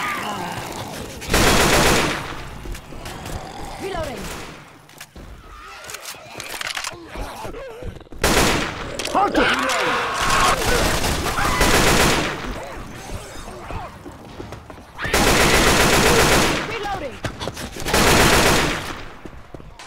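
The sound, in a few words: gunfire in Left 4 Dead 2 video game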